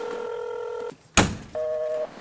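Telephone keypad dialing, two steady dual-tone beeps separated by a sharp thunk, close and clear with no talk.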